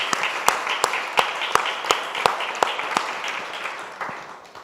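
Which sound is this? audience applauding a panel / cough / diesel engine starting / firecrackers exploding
audience applauding a panel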